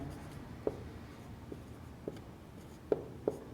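Pen or pencil writing on paper during a maths lesson, five faint, sparse taps and scratches spread out over a quiet background.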